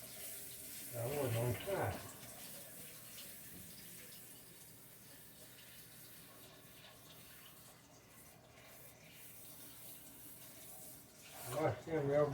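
Tap water runs while green tomatoes are washed, a faint, steady stream of flow under a woman's speech, which rises more clearly at the beginning and end.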